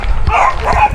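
Dogs bark up close, a brief loud yap or two filling under a second.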